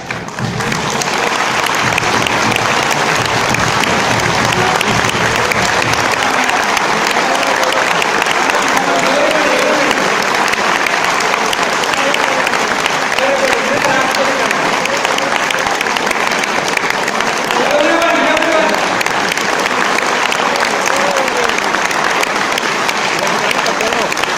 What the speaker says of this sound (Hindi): राइट के लिए 4 तालियां और लेफ्ट के लिए 4 तालियां